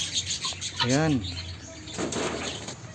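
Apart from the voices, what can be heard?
birds calling in an aviary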